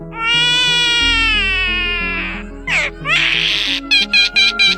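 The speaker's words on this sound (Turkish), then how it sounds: "Kara yakalı sığırcık. Metalik çığlıkları ormanda yankılanıyor." Harsh, metallic calls of a black-collared starling ring out in a series of bursts: a long sweeping squeal, then sharp rasping notes and rapid clipped chirps, loud and close.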